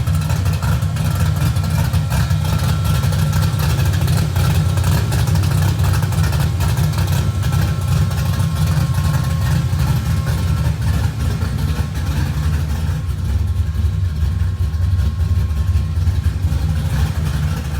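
A car engine with an Anderson B61 camshaft idles loudly up close with a deep, lumpy, uneven rumble that throbs steadily throughout, slightly softening near the end.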